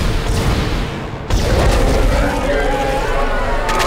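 Gunfire aimed at a monster in the Dead Space video game, one loud boom landing amid dense, continuous game noise and rumble, with a voice talking over it.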